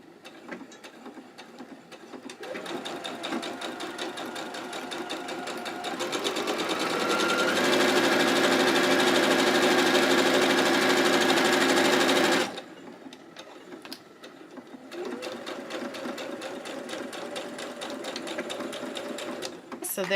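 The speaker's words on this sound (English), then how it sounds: "now I'm going to sew my straight line" A sewing machine stitches a straight line across fabric, its rapid mechanical whir starting and stopping and rising to a steady fast run in the middle, with a voice talking over it.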